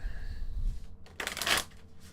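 A deck of tarot cards is shuffled with a short, close riffle burst of rapid flicking, preceded by a soft rustle.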